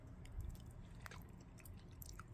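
Close, quiet chewing of mashed potato from a Texas barbecue restaurant, soft wet mouth sounds with a few small clicks over a couple of seconds.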